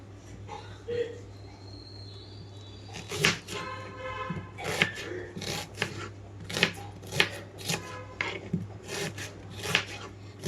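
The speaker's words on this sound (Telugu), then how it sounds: "ఉల్లిపాయ మొత్తం క్లీన్ చేసుకున్న తర్వాత మీడియం సైజు ముక్కలుగా కట్ చేస్తున్నాను ఇక్కడ" A knife cuts a cleaned onion into medium-sized pieces on a board, starting after a quiet pause with a steady run of crisp, close chops over a low background hum.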